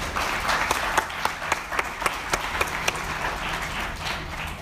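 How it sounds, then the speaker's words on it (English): Applause from an audience at a high school graduation speech in India, a steady wash of clapping with some sharper individual claps standing out, moderately distant and continuous throughout. "Can we all have a round of applause for Rahul,"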